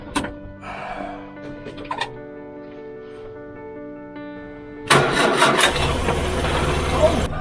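Old Morris Minor engine being cranked and then catching, a quiet stretch of faint tones followed by a sudden loud burst as the motor fires and settles into a rough, steady running rumble close by.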